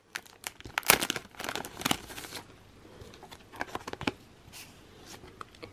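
A paper envelope from a K-pop album being handled and opened, with close, crisp crinkling and tearing rustles coming in irregular bursts, fairly quiet and with no speech.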